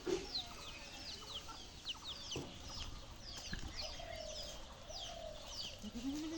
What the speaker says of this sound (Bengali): এই যে দেখেন মুরগিগুলো মুরগি বাচ্চা নিয়ে খাইতেছে কত সুন্দরভাবে